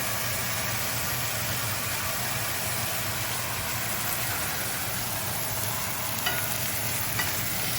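Sliced Chinese-style Vietnamese sausage sizzles in a hot skillet for a bánh mì chảo breakfast, a steady close frying hiss with faint crackles running unbroken throughout, no talking.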